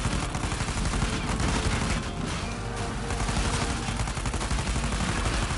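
Gunfire in the video game Uncharted 4, a dense, continuous barrage of loud shots and bursts layered with crashing and booming noise, unbroken from start to finish.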